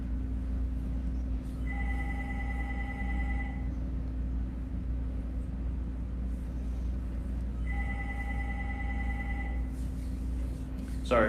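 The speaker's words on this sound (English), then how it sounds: "Sorry if you hear the phone ringing in the background." A telephone rings in the background of a museum, two separate bursts of electronic ringing roughly six seconds apart over a steady low hum, faint and alone without any voices.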